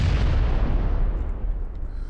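Grenade blasts in the PUBG battle royale game, a heavy booming explosion with a deep rumbling tail that fades over about two seconds, loud and close, with no talking.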